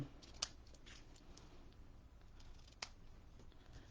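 Scissors trim a paper craft in quiet snips, with a couple of sharper cuts standing out against a soft, steady background hiss and no voices.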